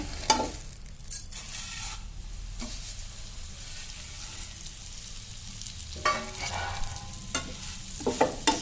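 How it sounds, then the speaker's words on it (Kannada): Vermicelli sizzles in ghee in a pan as a spoon stirs and scrapes it, giving periodic bursts of scraping over a steady soft frying hiss. "ಅದರಾಗ ಏನು ತುಪ್ಪ ಐತಲ್ಲ ಇವನ್ನ ಶಾವಿಗೆ ಹಾಕ್ತೀನಿ"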